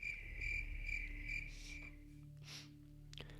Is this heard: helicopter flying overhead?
no